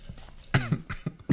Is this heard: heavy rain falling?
no